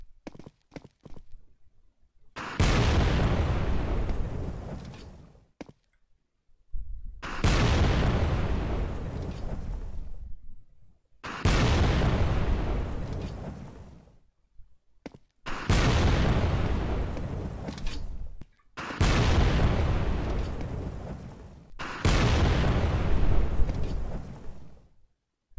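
Rocket explosions during a base raid in the game Trident Survival, six heavy booming blasts at regular intervals, each with a long rumbling decay followed by brief quiet.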